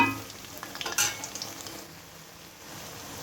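Crispy piyaju, onion fritters, sizzle in hot oil in a home kitchen. A few sharp scrapes and clinks of a utensil against the pan sound early on, then steady bubbling settles in alone.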